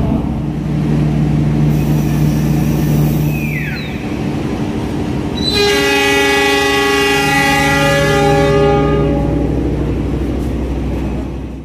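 A passenger train rumbles steadily along after departing Purwokerto station in Indonesia, loud and close, then a long multi-tone horn blares for several seconds over the running noise.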